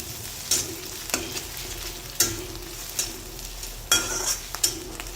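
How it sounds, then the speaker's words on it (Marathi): Crushed garlic and ginger are sautéed in a pan for a fresh masala, with a soft steady sizzle broken by several sharp scraping strokes of a spoon or spatula as the mixture is stirred. "हे पण छान मस्त याच्यात परतून घेऊ थोडंसं"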